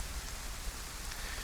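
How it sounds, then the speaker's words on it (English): Steady rain hisses down in the DayZ survival game on PS5 near Svetloyarsk, a dense, even patter of drops on surfaces, soft and continuous with no talking. "Right, so rain again."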